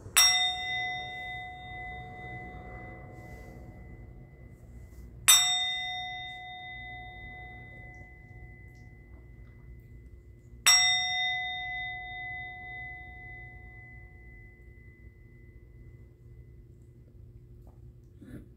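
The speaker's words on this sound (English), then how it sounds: "I'm going to ring the bell." A hand bell is struck three times, about five seconds apart, each bright ring decaying slowly over a faint low hum, with no talking.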